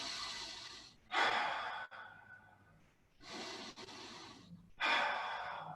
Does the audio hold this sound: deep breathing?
yes